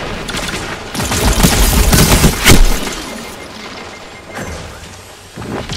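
A Last Rite scout rifle in Destiny 2 fires in a burst of loud, close, sharp shots and impacts, clustered in the first half. Fainter shots follow later.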